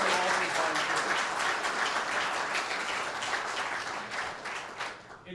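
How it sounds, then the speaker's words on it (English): Sustained applause from a festival audience at a film festival panel, dense and steady throughout before tapering slightly at the end, with no speech over it. "Please join me in giving them all a round of applause."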